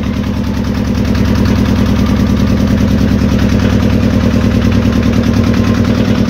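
A motor boat's engine chugs steadily during a river ride at Taki, a loud, close, rhythmic low drone that holds constant throughout with no talking.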